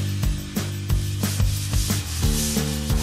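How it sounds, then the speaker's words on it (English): A hand sander scrubs across dried drywall joint compound, tidying rough spots on a wall surface before the third coat, giving repeated rhythmic rubbing strokes at close range with no talking. "tidy up any rough parts of the drywall surface with a sander and the edge of a drywall knife"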